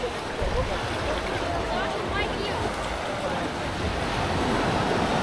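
Ocean surf on an Indonesian beach rushes in a constant, loud wash, with wind buffeting the microphone throughout and no distinct breaks between waves.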